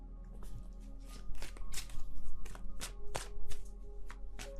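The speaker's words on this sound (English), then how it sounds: "I'm shuffling them right now" Close, crisp tarot card shuffling with repeated riffling bursts growing busier after a quieter start, over a faint steady hum.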